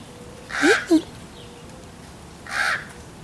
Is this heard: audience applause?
no